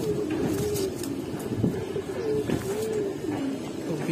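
A Giribaz pigeon coos close by, a soft repeated low warble rising and falling in a steady rhythm against faint background noise, with no talking.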